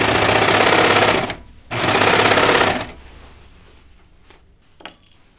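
Sewing machine stitching through thick denim seams on pull-on jeans, two loud sustained bursts of rapid motor whir with a brief pause between, then a quieter tail with faint clicks.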